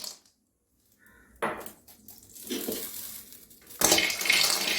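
Soybeans tipped into a hot dry pan, a burst of rattling and scraping against the metal followed by stirring clatter that grows louder, after a near-silent start.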